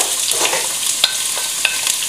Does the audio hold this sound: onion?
yes